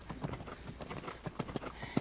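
A ridden horse during a riding lesson and technical demonstration, its hooves clip-clopping in a steady, fairly faint rhythm, with a voice murmuring in the background.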